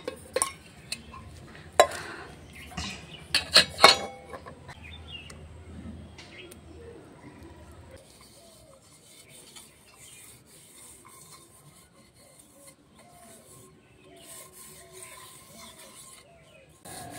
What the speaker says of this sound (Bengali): আমি এখন এসেছি হাঁড়ি আর কড়াতে একটু মাটি লাগাতে